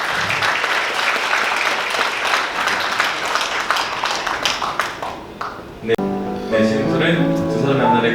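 Applause from wedding guests at a ceremony at a convention hall, a steady sustained wash of many hands that fades out as an officiant's voice takes over near the end.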